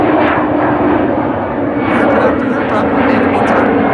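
An airliner taxiing on the long route from the Polderbaan runway at Amsterdam Schiphol Airport, its engines giving a loud, steady jet whine and roar under continuous talk nearby.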